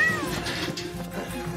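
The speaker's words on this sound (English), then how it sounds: "Where are you, Cat? Have you been chasing those poor birds again, Cat" A cartoon cat meows in a short, nearby, drawn-out call, clear and prominent against a quiet outdoor background.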